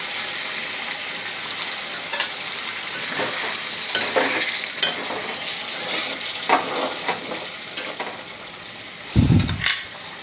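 Spice paste thinned with water sizzles and fries steadily in a pan, with scattered scraping stirs and a louder clatter of the spoon near the end; no talking.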